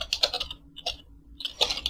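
Typing on a computer keyboard, close and crisp clusters of rapid key clicks in two short bursts separated by a brief pause.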